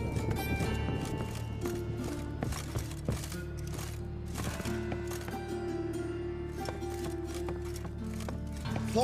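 Hooves clatter in a quick rhythmic beat, a horse galloping in The Witcher 3: Wild Hunt over a busy layered background of music and effects.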